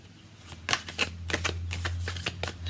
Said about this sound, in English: Once I get in the flow of shuffling, I'm okay